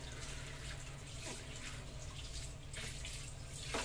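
Galunggong fish being washed under running tap water, a steady close rush and splash of water with small shifting splashes as the fish is handled.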